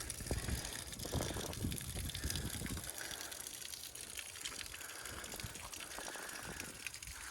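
An outboard boat motor runs on flushing earmuffs to clear sand, with water gushing and spraying in a loud, steady rush. A heavier low rumble fills the first three seconds, then the noise evens out.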